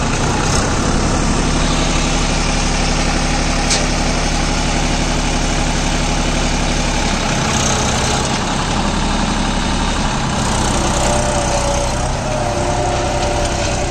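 A Massey Ferguson 246 Dynatrac 4WD tractor diesel engine runs loud and steady throughout, a continuous low rumbling idle with vibration that shifts slightly in tone partway through.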